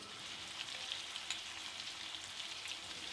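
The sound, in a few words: duck curry frying with red chilli paste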